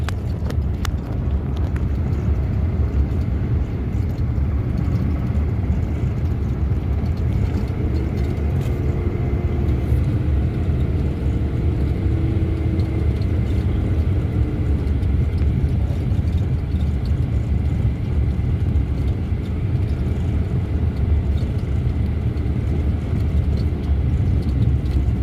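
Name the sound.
car driving along a road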